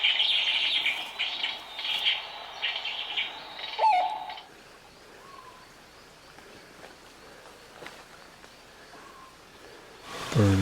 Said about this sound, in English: Bird's right over here.